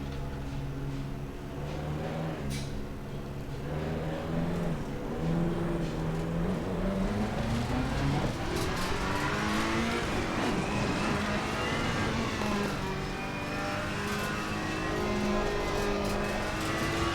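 Race car engine from the Assetto Corsa Competizione racing game, a steady loud drone whose pitch rises and falls through gear changes and revs, with no talking.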